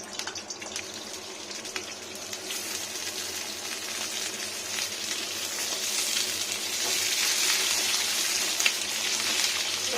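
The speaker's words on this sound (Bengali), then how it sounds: "প্রথমে বেগুনগুলোকে একটু ভেজে নেব" Eggplant pieces frying in oil in a pan, a steady close sizzle with crackling spatters that grows slightly louder over time, heard alone without talk.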